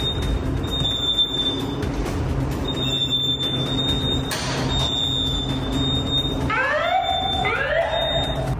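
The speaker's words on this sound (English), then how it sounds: "So we think it's a false alarm," A building fire alarm sounds in repeated high-pitched electronic tones over a constant rumbling background, with rising chirping sweeps near the end.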